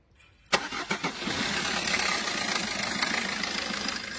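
A 2014 Maruti Suzuki Ertiga VDI diesel in good condition starts after a brief silence: a few quick cranking pulses catch, and the engine settles into a steady, close idle.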